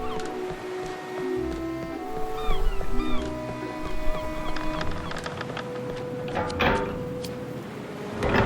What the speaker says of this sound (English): Darn cat.